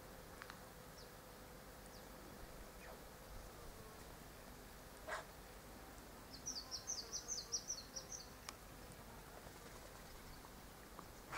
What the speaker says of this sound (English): The cheeping of the mistletoe bird on a spring day.